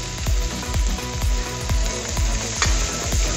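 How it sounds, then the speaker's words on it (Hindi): Dal ingredients frying in a pan over medium gas, a loud steady sizzle broken by regular rhythmic scrapes of a spatula stirring, close up with no talking. "इसको भूनते हैं पहले।"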